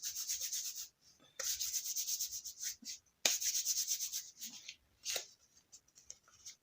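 Two Nad's facial wax strips rubbed briskly together to warm them, making dry, close papery swishing in several bursts of friction separated by short pauses.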